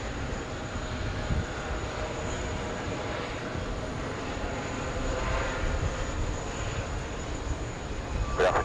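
Jet airliner arriving at JFK airport, a steady broad engine roar held at moderate level throughout, with no talk.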